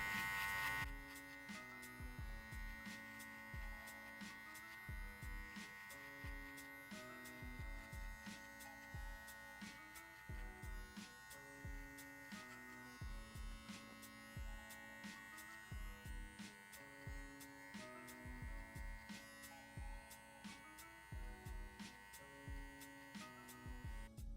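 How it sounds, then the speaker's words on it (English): An electric hair trimmer buzzes steadily and close up while cutting a faux hawk fade, its motor hum rising and dipping in rapid rhythmic pulses as it is tapped against the hair, with no talking. "I'm using my trimmer, so I'm gonna tap it down a little bit."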